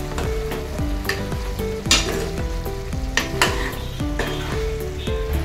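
Ingredients with turmeric and salt sautéing in a pan for mutton biryani, a steady sizzle under repeated stirring scrapes and sharp utensil knocks against the pan at a quick rhythm, close and clear.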